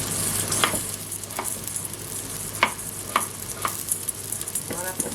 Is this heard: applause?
no